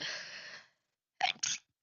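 A sharp sneeze bursts out close by, followed after a brief pause by a second quick, breathy sneeze.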